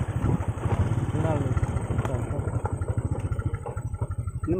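A motorcycle idles near a swampy fishing spot, its engine putting out a steady, rapid low thump that runs throughout at close range, with a voice speaking briefly over it.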